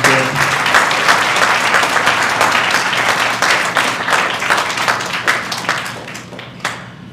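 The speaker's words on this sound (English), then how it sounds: "let us give a round of applause to all the family members" A graduation-ceremony crowd at Texila American University applauds the graduates' family members, producing loud, dense, sustained clapping close by that thins slightly toward the end, with no talk over it.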